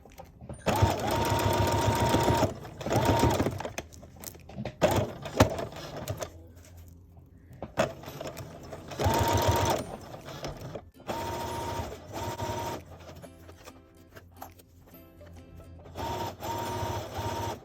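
A sewing machine set to straight stitch runs at slow speed while stitching a zipper pouch made from upcycled lingerie, its mechanical whirring coming in several steady bursts separated by short pauses, close and clear.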